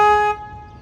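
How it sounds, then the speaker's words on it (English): A river boat's foghorn gives one loud, steady tonal blast for about a third of a second and then cuts off, leaving a quiet low rumble behind it. "so we slow down, hit the foghorn"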